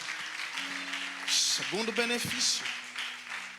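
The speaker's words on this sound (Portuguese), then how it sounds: "Você pode aplaudir ao Senhor pela vida desses irmãos?" A church congregation claps together in a steady wash of applause during a Portuguese-language service, while a voice speaks over the clapping.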